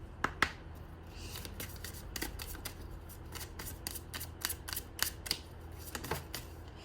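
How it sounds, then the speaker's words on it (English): Oracle cards shuffled and handled at close range, a string of crisp, quiet snaps and riffles coming in irregular bursts, with no voices. "Let me get the oracle cards."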